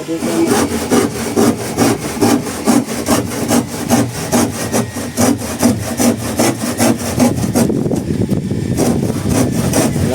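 A hand saw cuts through wood in quick, steady back-and-forth strokes, close and loud, with a brief lighter stretch near the end.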